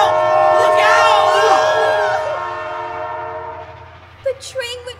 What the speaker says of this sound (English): The train went right over him!